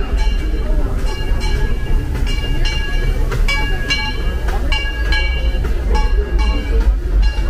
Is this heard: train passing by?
yes